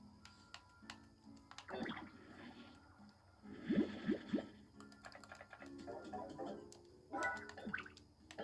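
Quiet clicks of typing on a computer keyboard come in scattered bursts and short runs of keystrokes, fairly close and soft, with brief gaps between them.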